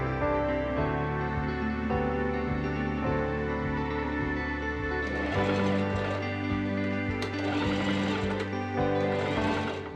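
Domestic sewing machine running a long steady stitch along a seam in Regency-style men's pantaloon trousers, a continuous close mechanical whir with a faster, busier burst of stitching near the end.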